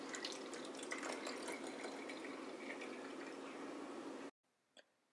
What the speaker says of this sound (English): Pour 130 ml of distilled water.